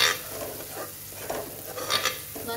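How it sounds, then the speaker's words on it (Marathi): Spices sautéing in a pan while being stirred, producing a soft continuous sizzle with light scraping strokes, close and moderately quiet. "हे मसालेही आपण 1 मिनिट परतून घेऊया।"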